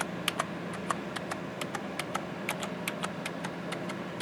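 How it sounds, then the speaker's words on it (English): Keys on a Mad Catz S.T.R.I.K.E.7 gaming keyboard, non-mechanical with a slight click, are struck in an uneven run of quick, crisp taps, close and fairly quiet, with no one speaking. "Right now I'm just banging on the keys"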